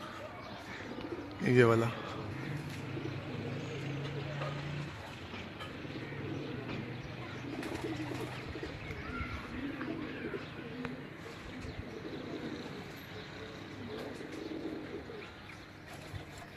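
A pigeon perched on a rooftop in Multan gives soft, faint cooing beneath outdoor background noise and people talking nearby.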